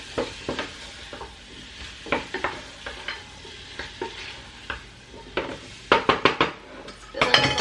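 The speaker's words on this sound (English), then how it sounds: "I'm just going to stir this back here, the apples" Apples cook in butter and cinnamon in a pan and are stirred with a utensil. Repeated scraping, clinking strokes against the pan sound close over a soft, continuous sizzle, coming in quicker bursts toward the end.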